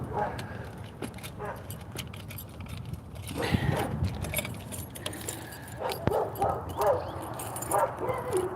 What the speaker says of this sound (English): I gotta get my keys out of here.